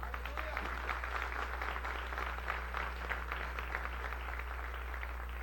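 A church congregation applauding during a celebration service, fairly faint, even clapping that runs throughout over a steady low hum.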